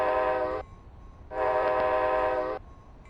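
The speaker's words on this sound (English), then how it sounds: "the train should be past us already" Train horn in Flight Simulator X, two long harmonic blasts with a short gap between them, loud and close, with no talk.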